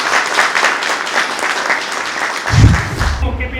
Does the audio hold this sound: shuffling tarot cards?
no